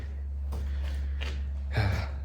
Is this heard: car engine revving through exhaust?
no